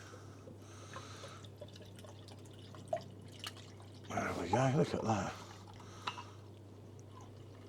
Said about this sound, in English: Should I pour this one? Yeah, pour it out. I'll pour this one out.